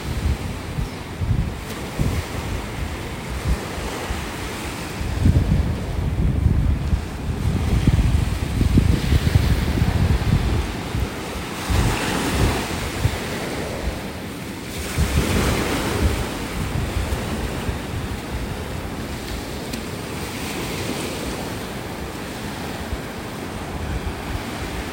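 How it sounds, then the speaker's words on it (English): Surf breaks and washes up a beach in North Naples, Florida, with steady wind buffeting the microphone, waves swelling and receding in slow rolling surges. "Looks like the waves have been still chipping away at the beach here in front of me."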